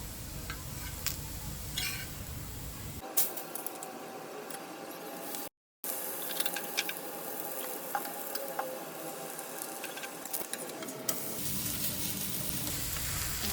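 Thalipeeth flatbread sizzling and crackling as it roasts in a pan, a steady low frying hiss with small ticks and pops, close and fairly quiet, with no talking.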